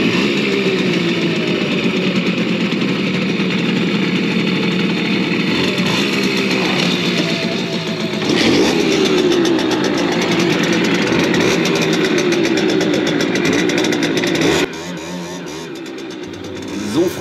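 A Simson S51 moped engine idles steadily and close, a constant buzzing drone that rises briefly in the middle before settling to a quieter idle near the end.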